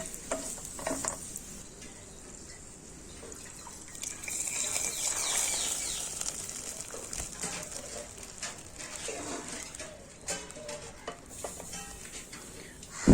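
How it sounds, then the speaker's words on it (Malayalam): Liquid is poured into semolina for tari kanji and stirred, a soft continuous swirl and wet scraping in a pan at moderate distance, with light clinks and a faint hiss throughout. "ഇനി നമുക്കത് തരിയിലേക്ക് ഒഴിച്ചു കൊടുക്കട്ടോ"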